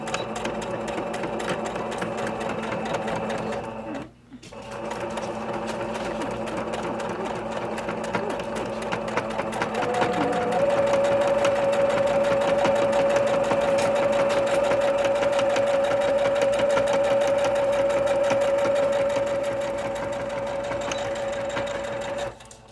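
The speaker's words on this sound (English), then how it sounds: "I'm going to back stitch" A home sewing machine back stitches along the folded edge of a half apron, running in a steady close whir with a brief pause, then a longer continuous stretch with a faint tonal whine.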